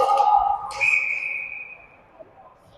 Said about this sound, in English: And they did get the whistle.